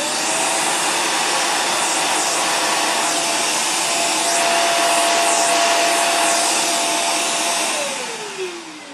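A Dirt Devil 360° Reach Pro bagless stick vacuum runs with a steady high-pitched whine close up, its motor pitch dropping as it winds down near the end.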